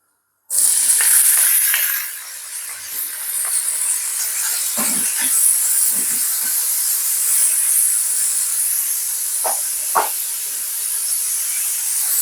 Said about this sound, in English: I'm going to add the bacon in this pan.